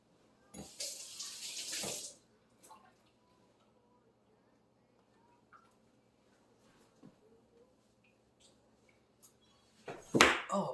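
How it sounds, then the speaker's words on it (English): Hands are rinsed under a running kitchen tap while making canary melon mint juice: short bursts of splashing water near the start, quiet gaps with faint drips and small clatters, then another splash at the end. "I'm gonna give my hands a rinse."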